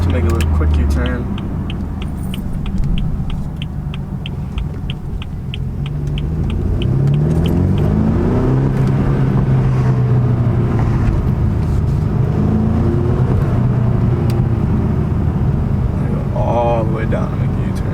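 BMW 428i M Sport with a muffler delete driving and turning for a quick U-turn, a loud close deep exhaust rumble rising and falling as it accelerates, under occasional talk.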